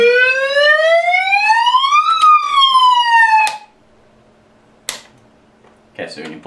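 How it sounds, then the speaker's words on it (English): A handheld loudhailer in siren mode sweeps upward, then dips briefly and cuts off abruptly. A few sharp clicks and a short clatter follow in near silence. "if it's in siren mode, when you pull the trigger,"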